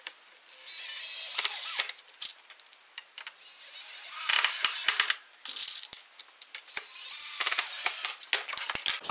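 Countersunk screws driven into plywood while boxing in a camper van wheel arch, heard as repeated bursts of driver whirring with ratcheting clicks, close and fairly loud, separated by short pauses.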